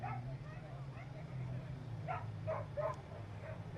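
Dog barking and yipping in short bursts at a dog-friendly beach during an AquaX Clearwater watercraft racing event, fairly distant beneath a steady low engine-like hum and background voices.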